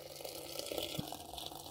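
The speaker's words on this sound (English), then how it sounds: "Then you add very, very hot water" Very hot water is poured over fresh mint leaves, tea and sugar to make Moroccan mint tea, giving a faint, steady liquid pour and trickle with no talking.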